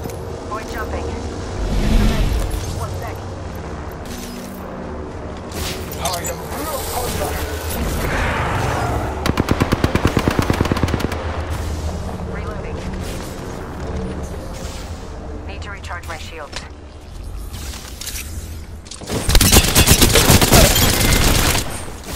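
Gunfire in the video game Apex Legends: bursts of rapid automatic fire and single shots mixed with mechanical reload clicks and game effects, loud and close, with character voice lines spoken between the shots.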